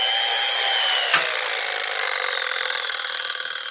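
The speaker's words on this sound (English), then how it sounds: "I've got my handy-dandy electric knife." An electric knife saws through a hard butternut squash with a continuous buzzing, grinding whine, a brief scrape as the blade catches partway, then steady cutting close up, no talk.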